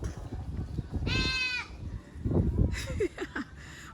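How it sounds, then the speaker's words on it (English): A goat on a roadside in Lucea, Hanover, Jamaica lets out a clear, nasal bleat at close range, with further shorter bleats and people talking in the background. "Watch your goat."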